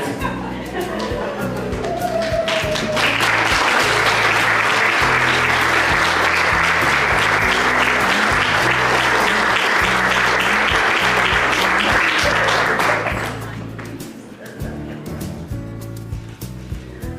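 A graduation and award ceremony audience bursts into loud, dense applause that swells, holds for about ten seconds, then thins into scattered claps, with a few voices underneath.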